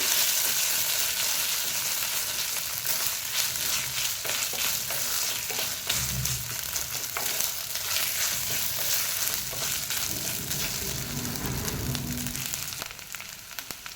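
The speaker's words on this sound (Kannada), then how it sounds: "ಚೆನ್ನಾಗಿ ಫ್ರೈ ಆಗಬೇಕು ಜಿಂಜರ್ ಗಾರ್ಲಿಕ್ ಪೇಸ್ಟು" Ginger garlic paste frying in a pan for a paneer curry: a continuous close, loud sizzle with scraping stirs throughout and no talking.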